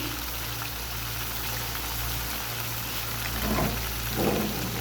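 Mutton karahi (white mutton karahi) frying in a pan, a steady low sizzle and bubbling hum throughout, with a couple of brief stirring swells near the end.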